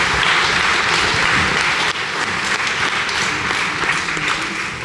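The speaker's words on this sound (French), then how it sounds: "je vous propose d'applaudir bien fort nos intervenants" A symposium audience applauds the speakers at a stroke-care conference, a dense, loud, sustained wash of many hands clapping together that continues steadily throughout.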